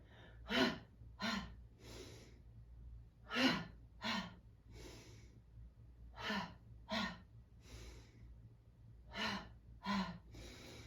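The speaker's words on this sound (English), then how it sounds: "on the exhales, with force, with momentum, you're going to exhale and come to forward fold. I call them ha-has" A series of forceful breathy 'ha' exhales during yoga forward folds, about a dozen sharp bursts in uneven groups, close and fairly quiet over a low steady hum, with no words spoken.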